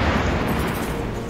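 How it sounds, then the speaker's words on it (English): An explosion goes off in the video game The Division, a single loud deep boom at the start that rumbles and slowly fades over about a second, with no talk over it. "Have an explosion."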